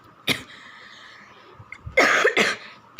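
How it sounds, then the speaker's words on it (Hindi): A single sharp cough, then a brief pause and two heavier, harsher coughs close together, near and fairly loud. "मुझे खांसी शुरू हो गई है"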